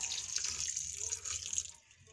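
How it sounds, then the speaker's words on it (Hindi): Cold water from the fridge pours steadily over boiled vermicelli in a strainer, a close, continuous splashing rush that tapers off at the end. "अब इन पे हम ठंडा पानी ऐड कर देंगे जिससे कि ये बहुत अच्छे से ठंडे हो जाए और आपस में चिपके भी नहीं।"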